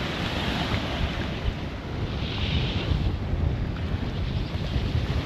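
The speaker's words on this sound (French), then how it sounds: "Tiens pour la vague qu'on voit là, mais elle s'est calmée." Sea waves rush and slosh around a sailboat under way toward Fort-de-France, Martinique, with steady wind buffeting the microphone, a continuous, fairly loud churning wash without talk.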